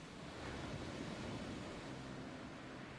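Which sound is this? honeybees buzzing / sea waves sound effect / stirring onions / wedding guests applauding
sea waves sound effect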